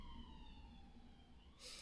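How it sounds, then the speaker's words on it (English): An emergency vehicle siren passes by, its wailing tone sweeping steadily downward in pitch against a constant background rumble, ending in a sudden loud burst of broadband noise. "I'll just let that siren go past."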